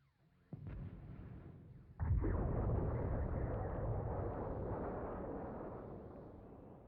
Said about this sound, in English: some of those were explosions from also previous battles